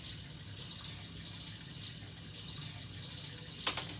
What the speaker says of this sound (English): I'm gonna take a shower real quick.